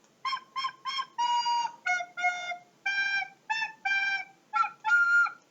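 Simon's flute plays a string of clear, whistle-like notes, some short and clipped, others held longer, close and alone with no other sound around them.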